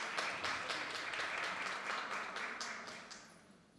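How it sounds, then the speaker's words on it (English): Wedding guests clap for a newly married couple right after the ceremony, a full burst of applause that starts strong and gradually thins and fades toward the end. "We'll give them a big round of applause."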